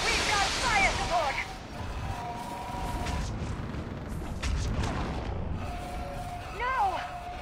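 Artillery fire support in Mass Effect 3 pounds in heavy booming blasts amid a chaotic battlefield mix, with whining projectile streaks and shouting voices over the rumbling explosions.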